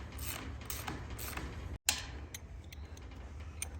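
Close, rough grinding and clicking of a chicken tractor wheel turned by hand on a long bolt, with irregular ticks and a brief gap partway through.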